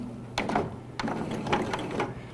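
A domestic sewing machine stitching fabric for a simple bib, beginning with a short backstitch: a few brief mechanical whirring bursts with ticking gear and needle clatter, close and moderately loud, no talk.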